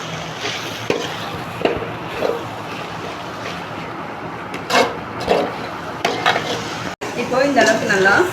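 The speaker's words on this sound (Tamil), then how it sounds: "எல்லா பக்கமும் நல்லா கலந்து விட்டுருங்க." Vegetable spice mixture for chapati being stirred in a pan: ongoing sizzle and repeated scraping strokes against the metal, fairly close, with a louder clatter of stirring near the end.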